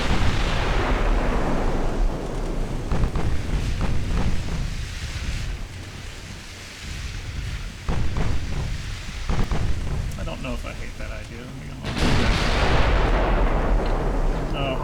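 Heavy naval artillery salvos from a 1920-era battleship and cruiser engagement in Ultimate Admiral Dreadnoughts boom repeatedly. Deep rumbling blasts roll into each other, with loud surges near the start and again toward the end.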